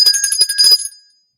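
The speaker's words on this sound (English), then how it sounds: "If you keep ringing that bell, I'll give you 2 lumps." Small bell rung repeatedly in quick bright chimes for under a second, then ringing out and fading to silence.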